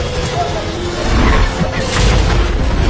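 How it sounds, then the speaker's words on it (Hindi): A loud explosion destroys a ship's propeller in a Poseidon movie scene, a dense, sustained roaring blast that swells and rumbles heavily through the whole moment. "अगले ही पल जोरदार विस्फोट हुआ।"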